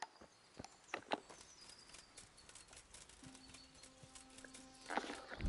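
A horse in the game Kingdom Come: Deliverance, hooves clip-clopping in an uneven scatter of close thuds over a quiet outdoor backdrop, with a faint tonal hum midway and a louder burst at the end.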